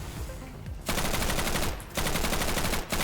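Two long bursts of rapid automatic gunfire rattle loudly at Xen creatures in Garry's Mod Black Mesa, close and dense, separated by a short pause.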